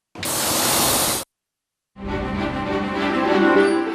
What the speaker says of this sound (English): You can hear the hiss as the compressed gas escapes.